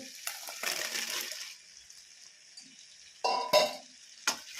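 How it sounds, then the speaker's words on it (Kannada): Fried paneer cubes being stirred into a pepper gravy in a pan, with a soft sizzle running throughout, and sharper scraping and clinking strokes from the spoon against the pan toward the end. "ನೀಟಾಗಿ ಮಿಕ್ಸ್ ಮಾಡ್ಕೊಳ್ಳೋಣ."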